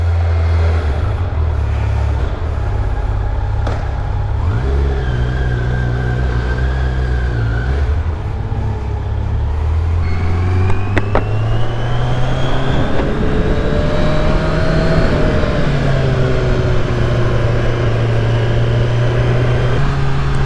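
A loud Kawasaki Z900 motorcycle engine in sport mode revs up repeatedly, its pitch rising through the gears with deep exhaust rumble and wind noise, close and continuous throughout.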